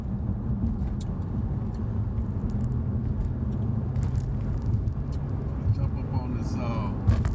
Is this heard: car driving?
yes